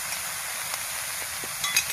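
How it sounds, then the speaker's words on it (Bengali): Water lily stems (shaluk) go into a pan with hilsa fish head, setting off a steady close sizzle and frying crackle with light stirring scrapes throughout. "এবারে শালুকগুলো এর মধ্যে দিয়ে দেবো।"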